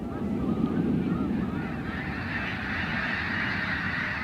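A flock of about a thousand snow geese honks in a dense, continuous chorus while taking off from water, the massed calls blending with a broad rushing whoosh of beating wings, loud and sustained with no talking.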